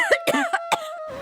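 A girl seated at a meal of rice breaks into a sudden fit of coughing, a voice imitating the sound in four or five short, throaty bursts close up.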